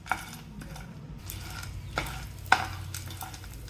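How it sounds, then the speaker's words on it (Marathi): Edible gum (dink) roasts in ghee over a medium flame for dry-fruit ladoos, with a steady sizzle under scraping spoon strokes and a couple of sharper clinks against the pan. "तर आपण पाहत आहात की हळूहळू आपला डिंक भाजला जातोय"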